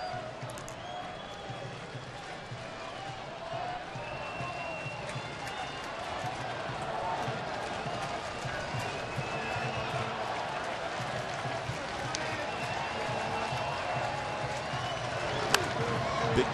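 A baseball crowd at the Oakland stadium murmurs and stirs, a broad distant wash of voices and scattered clapping that swells gradually over the stretch, with a few sharp claps near the end.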